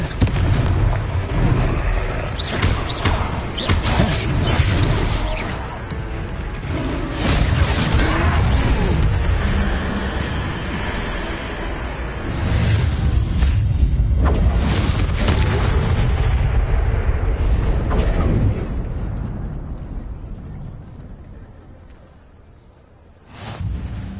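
The Confringo spell's blast in Hogwarts Legacy sets off a loud, sustained explosive roar with crashing debris and whooshes that rumble on for many seconds before fading, then swell briefly again.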